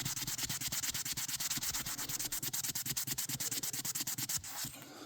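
Rhythmic back-and-forth scrubbing of 1000 grit sandpaper on a tempered aluminum plate for a guitar cover, quick regular strokes close up that stop near the end.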